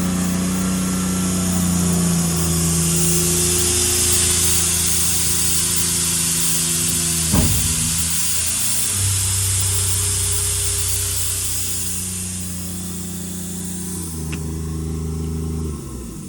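An EnPak compressor unit runs on a 2015 Ford F-550 diesel truck with an IMT crane bed, a loud steady mechanical drone that shifts pitch, with a single clunk midway and a brief change near the end.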